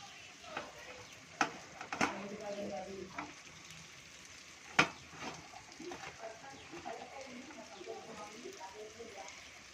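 Chilli- and salt-coated pieces are tossed and mixed in a pan, soft sizzling under scattered sharp scrapes and knocks, with faint background bird cooing and a murmur of distant voices.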